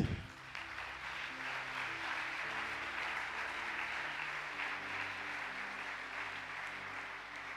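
A church congregation at an Easter service breaks into sustained applause, a dense steady clapping that fills the room evenly for several seconds with no talk over it.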